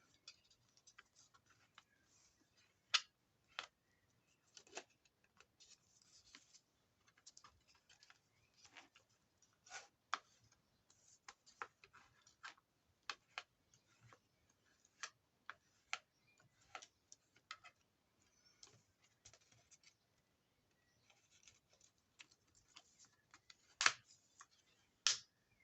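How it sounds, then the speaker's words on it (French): Scrapbooking paper is handled delicately, giving faint, sparse, crisp clicks and light crinkles scattered unevenly over about 25 seconds, close by and quiet, with no voices. "Ça s'entend même que c'est du papier."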